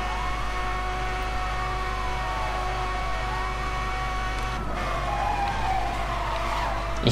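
A car engine held at full throttle in the racing game Need for Speed Hot Pursuit, a steady, loud droning roar with police sirens wailing and sweeping over it throughout.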